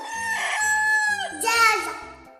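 A rooster crowing, played as a clue in an animal sounds guessing game, comes through as two loud, drawn-out cock-a-doodle-doo calls with clucky broken notes. A second sound layer runs underneath.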